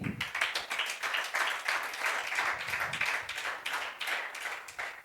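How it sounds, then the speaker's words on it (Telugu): A church congregation at a Sunday service claps together in a steady, fast rhythm, many hands striking in unison with a bright, reverberant slap that continues for several seconds. "మరి దేవుడు చేసిన కార్యానికి అలా చప్పలు కొడతారండి"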